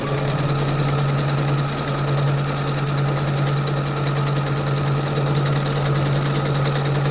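A Fadimex computerized sewing machine stitches fabric at speed with the presser foot lowered, giving a steady, rapid mechanical whir and chatter that is close and continuous, with no voices.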